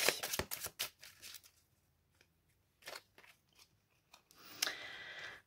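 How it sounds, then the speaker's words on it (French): Tarot cards being shuffled and drawn, quick riffling bursts at the start followed by sparse soft card slides and flicks and a final longer shuffle, close and quiet with no talk. "On va prendre 3 cartes pour les célibataires et 3 cartes pour les couples"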